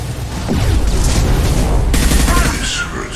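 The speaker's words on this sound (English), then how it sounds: "Taking heavy This fire. is what you face." Heavy gunfire in Mass Effect Legendary Edition comes as a loud, dense, continuous barrage of shots and blasts at close range, and voices speak over the firing.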